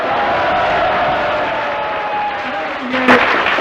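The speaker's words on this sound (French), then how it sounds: "sous les acclamations de vos amis de Reims" Applause and cheering from friends from Reims in the audience at a French radio quiz show, the Jeu des 1000 francs, come as a steady wash of crowd noise. A short tone sounds near the end.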